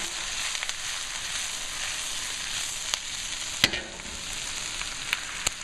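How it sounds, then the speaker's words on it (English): Bok choy stir-frying in a hot pan for an orange ginger beef stir fry, a steady close sizzle with occasional sharp crackles and pops as the greens are tossed, with no talking. "next in goes the bok choy. Gonna cook it up. There we go. Give that a nice toss."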